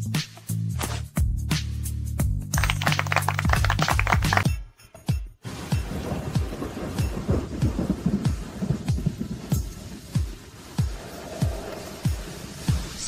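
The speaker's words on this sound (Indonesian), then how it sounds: "Hujan semakin deras." Heavy rain with rolling thunder: a few loud, booming cracks come first, then a short pause, and then dense rain keeps pattering and splashing steadily until the end.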